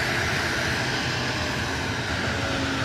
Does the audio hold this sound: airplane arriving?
yes